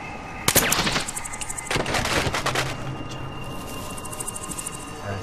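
Gunfire from the video game Killzone 3 crackles in rapid automatic bursts, a heavy volley early on followed by sustained shooting under a steady game soundscape.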